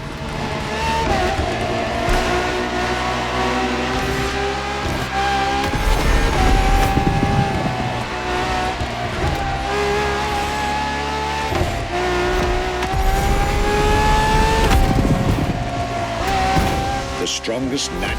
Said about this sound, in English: Strongest naturally aspirated Ferrari V12 to date, marking Ferrari's first steps into hybrid technology.